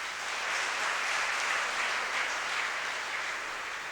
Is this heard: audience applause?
yes